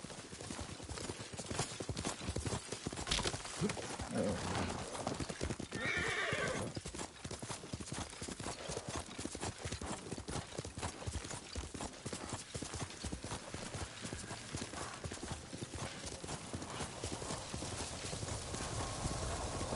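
A horse clip-clops steadily on hooves from start to finish and gives a loud whinny early on, with a dense, continuous texture of hoofbeats.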